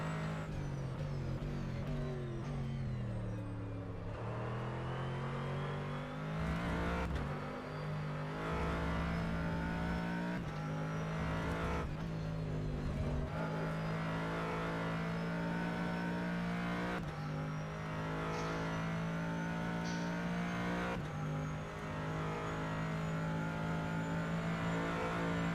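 Corvette GT race car in rFactor 2 driving practice laps at Virginia, a constant close engine roar that shifts pitch through gear changes and braking, loud throughout and with no speech.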